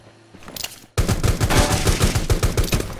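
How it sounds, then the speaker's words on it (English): Rapid bursts of gunfire in the video game Rules of Survival, a quiet lull then loud repeated shots crackling steadily for a few seconds. "Some gunshots behind us."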